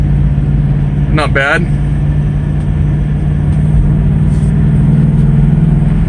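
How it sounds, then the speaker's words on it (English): A 1974 Ford Maverick pro-touring coupe with a V8, headers and MagnaFlow mufflers idles with a steady, low, mellow rumble outdoors in Las Vegas, while someone speaks briefly over it. "I think it's a MagnaFlow mufflers on it. Sound great, not too loud, but you know there's a V8 underneath this thing"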